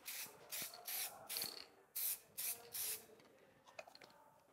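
An aerosol can sprays a second light coat of HyperDip onto a car emblem in several short hissing bursts, close and crisp, with soft rustling and light clicks between them.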